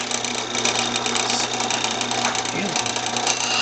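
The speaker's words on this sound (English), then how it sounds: "So I'm going to go ahead and start grinding it." A water-cooled diamond grinder grinds a piece of flint from Nephi, Utah, into a stone marble, giving a continuous close whirring and buzzing motor sound with rough scraping texture.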